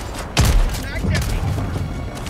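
A single heavy, booming blast from a rail cannon fired point blank in Helldivers II hits near the start, followed by rumbling noise and scattered mechanical clatter.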